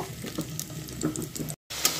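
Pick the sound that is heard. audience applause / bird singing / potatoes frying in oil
potatoes frying in oil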